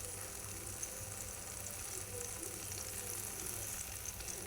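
Red banana halwa with country jaggery frying in a pan, a steady dense sizzle running evenly and fairly close throughout, with no voices.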